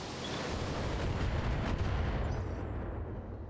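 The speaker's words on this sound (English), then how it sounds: "Firing a full salvo." A mech firing a full missile salvo in the BattleTech video game, a dense, loud roaring rumble of launches and blasts that holds steady for several seconds and then tapers slightly.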